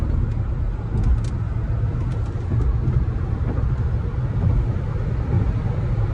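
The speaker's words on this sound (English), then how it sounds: "You can listen to this noise, which is this hum, electric hum, which is really cool." Steady low road and drive hum inside an MG ZS EV electric car cruising at high speed in India, a constant broadband rumble with faint higher whine and no talk.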